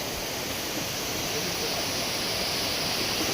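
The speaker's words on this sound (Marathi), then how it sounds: "समोर बघताय काल धबधबा हा वाहत नव्हता संध्याकाळी एवढा" A waterfall running full after rain, heard as a steady, dense roar of rushing water that stays constant throughout with no other sound standing out.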